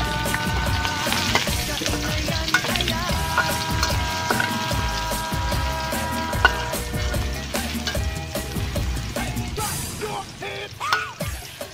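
Chopped garlic fries in a hot pan with a steady, close sizzle, broken by scraping stirs and light clatter of a utensil against the pan, with no talking.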